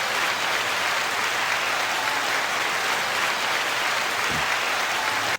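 A stock applause sound effect from a crowd gives a thick, even roar of clapping at constant loudness, alone with no talk, cutting off abruptly at the end.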